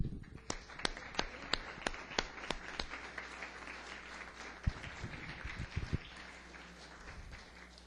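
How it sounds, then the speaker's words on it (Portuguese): A church congregation breaks into applause, starting with a few sharp, separate claps that swell into a steady, moderately distant patter of many hands, with faint voices mixed in. "Vamos dar uma salva de palmas ao Senhor."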